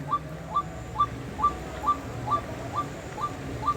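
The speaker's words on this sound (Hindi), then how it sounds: "इस जंगल से कुछ पंछियों की आवाज़ आ रही है" Birds in a forest beside a flooded ghat on the Ganga at Haridwar give a short, high chirping call repeated at a quick, regular pace, moderately distant, over a steady low wash of background noise.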